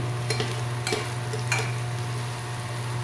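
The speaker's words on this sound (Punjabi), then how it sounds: "ਦੇਖੋ ਪਿਆਜ਼ ਨੇ ਇਹਨੇ ਆਪਣੇ ਥੋੜੇ ਥੋੜੇ ਜਿਹਾ ਫਰਾਈ ਹੋਣ ਲੱਗ ਗਏ ਨੇ" Chopped onions fry gently in a pan for a mixed-vegetable pulao, a steady close sizzle under a low hum, broken by a few brief scrapes and clinks of stirring.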